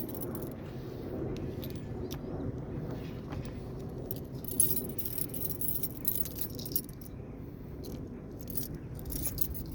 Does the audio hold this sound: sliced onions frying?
no